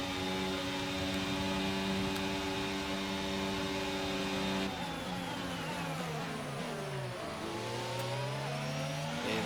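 Formula 1 race car in the F1 22 video game running in another car's slipstream, a loud sustained high engine whine holding steady, then shifting and bending in pitch partway through, with no talking.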